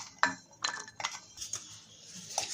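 Fried cashews moved from a kadhai into a bowl, a few quiet metallic clinks and scrapes of a spoon against the pan and dish, spaced irregularly in a hushed room.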